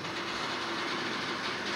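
A regional replacement train hauled by a class 111 locomotive with blue double-deck coaches rolls along, a steady loud rumble and rushing noise from on board with faint rhythmic wheel clatter and no speech.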